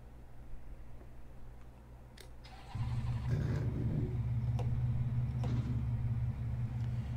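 BMW M4 GT4 race car engine in Assetto Corsa Competizione at Barcelona, a low idle that jumps to a louder, steady droning rumble partway through, with faint clicks over it.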